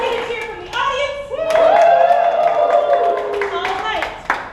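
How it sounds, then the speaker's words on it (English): An audience at a summer camp stage show claps and cheers loudly for a few seconds, with high excited voices and applause swelling then tapering off. "Let's get a cheer from the audience."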